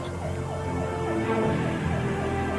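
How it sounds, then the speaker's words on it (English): Ambulance sirens wail continuously at close range, rising and falling in a steady repeating sweep that stays loud throughout, more than one siren blending together. "Here comes the ambulance."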